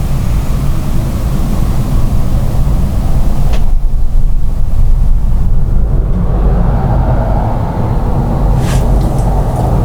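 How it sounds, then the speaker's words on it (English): A truck drives past outside a pub, heard indoors as a loud, broad, low rumble. It swells early, eases off in the middle, then builds again toward the end, with no talking over it. "There is a truck gone past, I could kind of hear that."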